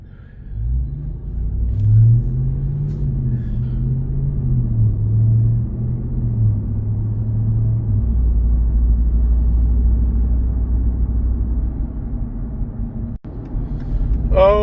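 School bus engine on its route heard from inside, a loud, steady low rumble that rises and falls as the bus moves, lasting the whole stretch with no talking.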